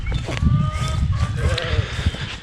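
Sheep bleat close by, several overlapping wavering calls in a steady chorus.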